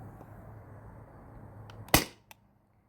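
One sharp, loud shot from a Sabre 68 HDL paintball marker running on HPA or CO2, standing out against quiet background hiss, followed a moment later by a faint click.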